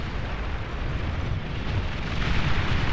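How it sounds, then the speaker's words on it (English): Continuous rumbling blasts from a bombing run in the strategy game Beyond All Reason, a thick, loud wash of explosions swelling slightly toward the end, with no speech. "Blue gets bombing run here. Takes out the last of the production on the left side."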